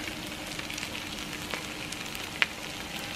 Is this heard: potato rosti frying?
yes